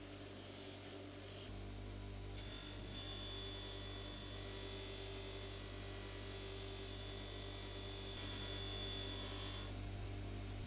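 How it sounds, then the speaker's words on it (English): A stitched cotton buffing wheel loaded with grey compound polishes a stainless steel HKS muffler tip. It gives a steady motor hum with rubbing and whirring, low-level and continuous, shifting slightly as the tip is pressed against the wheel. "I'll remove the scratches from the muffler tip with a stitched cotton buffing wheel with grey compound."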